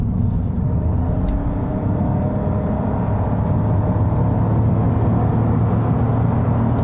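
Toyota Yaris 1.5 Hybrid, 2021 model, accelerating from 35 to 90 km/h, heard from inside as a steady, loud low road rumble with a faint rising engine whir.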